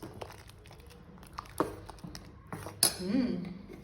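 Spoon scraping and clinking against a pot while fried onions are stirred into green pumpkin sambar, a few sharp metallic knocks and scrapes at irregular intervals, fairly close and quiet with no talk.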